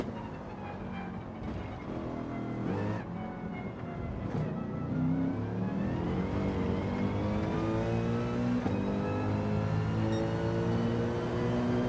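A Mercedes race car in Gran Turismo 7 daily racing revs hard, its engine note climbing through the gears with brief dips at each shift and droning on loud and steady.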